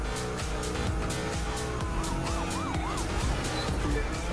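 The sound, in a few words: police siren in video game The Crew 2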